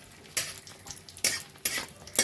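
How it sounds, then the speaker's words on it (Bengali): Cashews and raisins fry in ghee in a pan, giving a soft steady sizzle broken by four sharp scraping stirs of a spoon, heard close and alone without talk. "কাজুগুলো একটু ভাজা হতেই দিয়ে দেবো কিশমিশ।"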